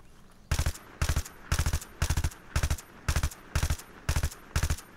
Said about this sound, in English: let's go ahead and do some burst firing